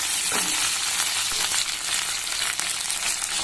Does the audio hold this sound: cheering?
no